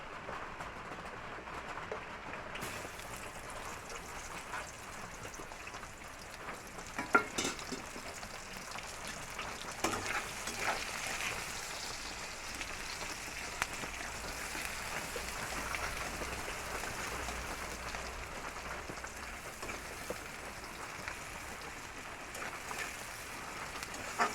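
Chopped onions fry in hot oil in a pan for egg curry, a steady close crackling sizzle that runs throughout, with occasional louder pops and stirring scrapes.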